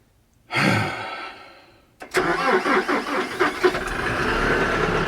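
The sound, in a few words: tractor engine running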